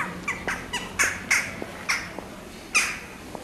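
Outdoor spring birdsong at a street performance area, with a string of short, sharp squawking calls repeating irregularly at moderate distance over quiet background.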